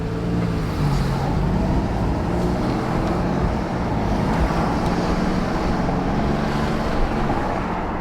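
A steady, subdued low rumble from an Alfa Romeo Giulia Quadrifoglio exhaust with its valves closed in dynamic mode on a Squadra tune, droning evenly and quietly like cruising road noise with no talk.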